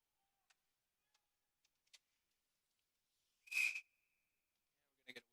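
At an ice hockey game, one short sharp whistle blast sounds from the referee at middle distance after a few faint ticks and clicks. A brief double click follows it.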